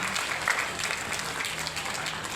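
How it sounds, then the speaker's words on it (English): Audience applause welcoming guests at a school function, a short steady patter of many hands clapping at moderate loudness with no voices over it. "Let's welcome them all with a warm round of applause."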